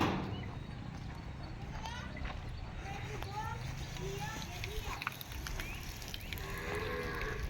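A desi cow moos in a farm shed amid constant farmyard noise and animal shuffling, the lowing blending into the busy background while people talk nearby.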